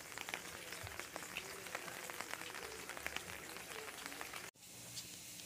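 Steady rain falling outdoors, a dense continuous patter of drops hitting surfaces with scattered sharper splashes, close and fairly loud, cut off abruptly near the end with a quieter, duller wash of rain afterward.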